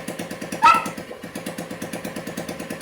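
A KYMCO Super 8 scooter engine idles nearby with a steady, fast rhythmic putter, briefly interrupted by a sharp metallic squeal before settling back into its even beat.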